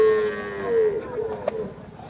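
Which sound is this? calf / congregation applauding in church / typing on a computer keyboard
calf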